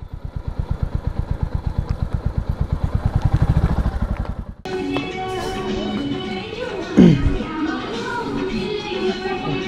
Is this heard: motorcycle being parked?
yes